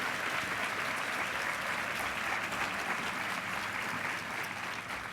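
An audience at a National Philanthropy Day awards event applauds steadily for the year's outstanding philanthropic corporation, dense and sustained clapping filling the room throughout.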